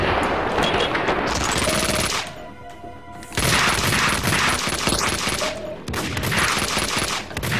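AK rifle fire in the video game Max Payne 2, long bursts of rapid automatic shots, loud and close, broken by a short lull and clipped pauses between volleys.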